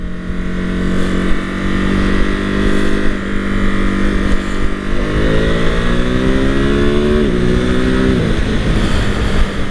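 A 2021 Ducati Monster 950 engine revving up through gears, pitch climbing and dropping sharply at quick, clean quick-shifter upshifts, loud and close with steady road noise.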